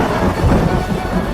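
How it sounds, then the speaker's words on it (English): A thunderstorm with heavy rain as a sound effect, a dense continuous roar of rumbling and hiss, loud and steady throughout. "water fell as rain to the earth"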